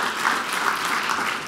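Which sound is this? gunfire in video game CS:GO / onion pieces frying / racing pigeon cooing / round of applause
round of applause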